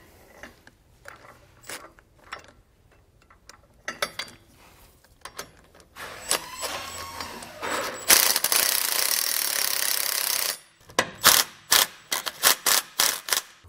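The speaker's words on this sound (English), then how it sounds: "We're now ready to tighten down our nylon lock nuts." A ratchet with a 14mm socket tightens nylon lock nuts on an Air Lift LoadLifter 5000 helper spring bracket on a 2017 Chevrolet, giving bursts of rapid close clicking separated by pauses, with a longer continuous ratcheting run midway.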